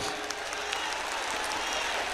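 An audience at a poetry recital gives faint, thin applause, a steady patter of scattered claps with crowd murmur underneath.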